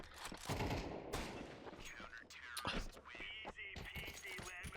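Rapid gunfire from Counter-Strike 2 rings out in dense bursts, sharp repeated shots overlapping with game effects and brief voice chatter, loud throughout.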